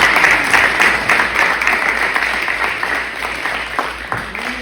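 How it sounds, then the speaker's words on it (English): A banquet crowd at an awards dinner applauds, a dense sustained wash of clapping that slowly fades, with voices faintly under it. "you deserve a round of applause"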